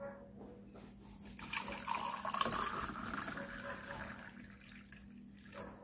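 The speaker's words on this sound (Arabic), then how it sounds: "ونبدا ان احنا نجيب الميه الدافيه" Warm water is poured into a glass in a faint, gentle trickle that swells into a fuller splashing pour midway and then tapers off quietly.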